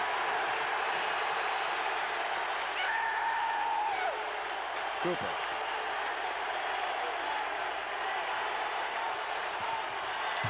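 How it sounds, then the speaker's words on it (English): A basketball arena crowd at a 1984 NBA playoff game in Dallas roars steadily from a distance, with an announcer's voice calling the play over the broad cheering. "Crowd coming to its feet in Dallas."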